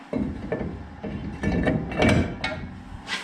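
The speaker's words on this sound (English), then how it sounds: "I'm ready to slip the rotor on." A brake rotor slides onto the hub of a Ram truck during a hub and caliper job, giving a close run of metallic clunks, scrapes and rattling knocks in uneven bursts, with no talking.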